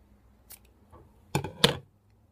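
Scissors snip the yarn of an arm-knitted infinity scarf, two quick close cuts after a faint earlier rustle, otherwise quiet.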